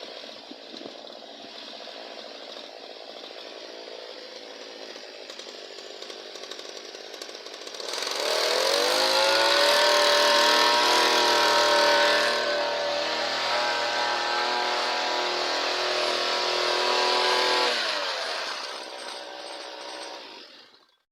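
A walk-behind tractor with a hiller attachment, fitted with a 36-tooth sprocket, running during a speed test: a steady engine drone that rises sharply into a loud, high whining rev for about ten seconds, then drops off and stops.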